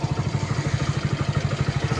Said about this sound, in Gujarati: આપણો સુરભાઈ બાઇક લઈને નીકળી જઈએ